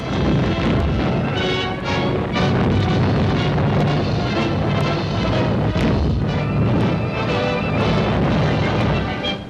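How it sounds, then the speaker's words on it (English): A sodium container explodes in lake water: a dense series of deep, muffled booms rolls continuously and loudly, with rumbling blasts overlapping one another and no voices. "As the water seeps in, smoke rises through a series of muffled explosions."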